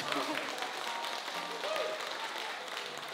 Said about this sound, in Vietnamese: xin cho anh cảnh lê một tràng pháo tay dạ